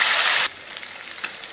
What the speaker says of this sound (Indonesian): Kemudian kita goreng lagi sisanya.